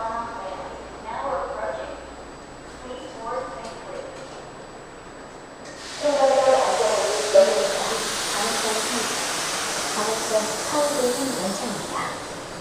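A Sillim Line light rail train pulls into Daebang station, Seoul, with a broad rushing hiss and rumble that rises suddenly and holds steady, after a stretch of quieter background with voices.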